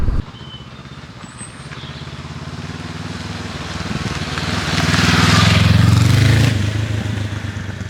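A 2022 Honda CB500X with a 500cc parallel twin is ridden along and gives a steady, smooth engine drone under wind rush. It swells louder as the revs build near the end, with no voices.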